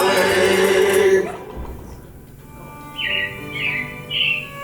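Animated robin chirps at Disney's Carousel of Progress in Magic Kingdom, three short bright tweets in sequence after music fades out, moderately close in a quiet room.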